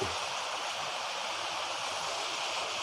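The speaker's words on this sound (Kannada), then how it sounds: "ಜಲಪಾತ ನೀರು ಬರ್ತಾ ಇದೆ" Water pours down a small waterfall at Karemmadevi Kolla near Gokak, surrounded by scrub forest, making a steady, even rushing hiss with no breaks or voices.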